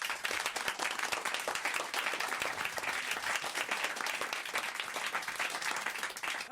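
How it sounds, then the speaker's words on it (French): Dense, sustained applause from a radio show studio audience, steady and loud throughout, a continuous wash of many hands clapping with no talking over it. "je reprends quand même sur des applaudissements"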